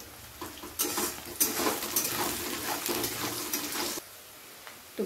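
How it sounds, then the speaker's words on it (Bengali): Onions frying in a pan with a little salt, a steady close sizzle and crackle with brief stirring scrapes and clatter, quieter for the last second. "পেঁয়াজটাকে কিছুক্ষণ ভালো করে ভেজে নেব যাতে পেঁয়াজের কাঁচা গন্ধটা চলে যায়"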